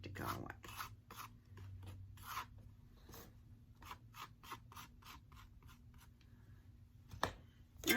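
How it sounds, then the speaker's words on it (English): Venetian plaster scraped off a mixed media art surface: short rasping strokes in a loose rhythm, close but fairly quiet, separated by brief pauses. "Scrape the rest of that out."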